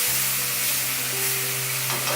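Masala spices frying in a little oil after a sprinkle of water, a close, steady sizzle with no voices over it.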